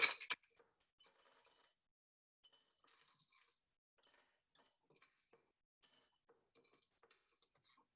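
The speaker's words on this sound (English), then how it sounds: "I'm gonna add some ice cubes." Ice cubes dropped into a glass: a sharp initial clatter followed by a long run of faint, scattered clinks and ticks as the cubes settle, quiet and close with no speech.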